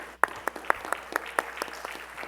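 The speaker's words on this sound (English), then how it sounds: "So I think a big round of applause, Murali ji," Applause from an audience at a Bharatanatyam arangetram, heard as a short run of fairly sparse, distinct hand claps at a steady pulse, moderately loud and close, with no talking.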